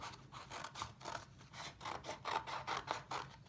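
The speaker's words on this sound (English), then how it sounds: "We're going to start at the bottom and cut all the way up" Scissors cutting a strip up to a marked line in a kente cloth weaving craft, giving quiet, rhythmic rasping snips repeated steadily and close by.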